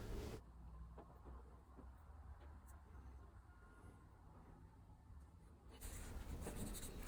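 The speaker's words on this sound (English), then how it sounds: "Here it's getting a sand with wet and dry" Wet and dry sandpaper rubs over a Brades No1 hatchet head in a quiet workshop, heard as a faint, steady scratchy rasp between louder bumps at the start and end.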